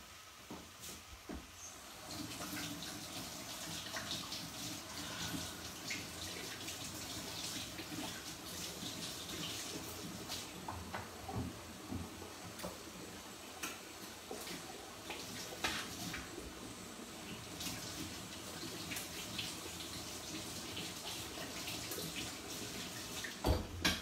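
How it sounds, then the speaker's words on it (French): Tap water runs steadily into a kitchen sink while hands are rinsed during apple crumble preparation, a continuous soft hiss and splash with faint clinks near the end. "Je vais me rincer les mains."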